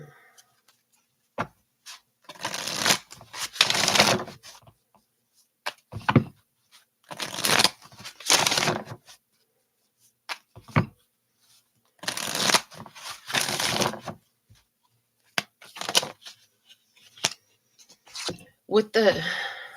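Tarot cards shuffled by hand in repeated bursts of riffling and sliding, each a few seconds long with short pauses between, close and fairly loud.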